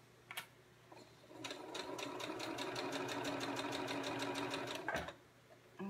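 A sewing machine top-stitches folded fabric with a close 1/8 inch stitch, a steady, rapid mechanical clatter running for about three and a half seconds, close and loud, preceded and followed by a few isolated clicks.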